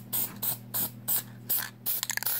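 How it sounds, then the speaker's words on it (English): A spray paint can hisses onto craft foam armor in short, regular bursts, roughly six loud close sprays separated by brief pauses, with a faint low hum beneath and a few small clicks near the end. "You don't want to like continuously spray, like, you know, just hit the same spot and drown the thing in paint"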